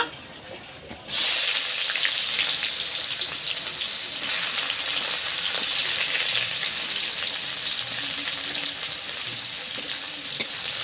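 Onions frying in a pan for egg curry, a loud, continuous close-up sizzle that starts abruptly after a second of quieter background and holds steady throughout.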